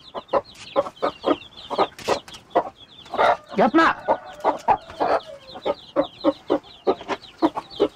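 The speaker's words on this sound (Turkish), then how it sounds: "Tavuk delirdi gene" A hen clucks rapidly in a chicken coop, sharp repeated clucks in quick rhythm with a louder agitated squawking burst in the middle, close by, with a person speaking briefly.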